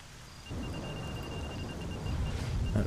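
Steady rain hisses across an area with anomalies in the Stalker video game, a dense broadband wash that swells slightly louder toward the end, with no voices over it.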